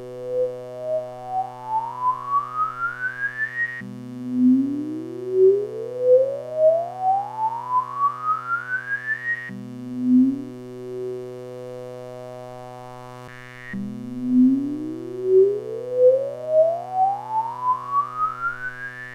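An AM1031 multipurpose filter sweeps its resonant peak across a sustained synth tone, producing repeated rising whistle-like harmonic glides over a steady low drone, each sweep climbing smoothly before resetting, clear and alone without speech.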